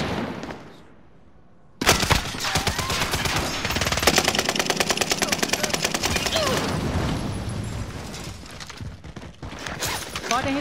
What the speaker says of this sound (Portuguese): Eles estão atirando em mim.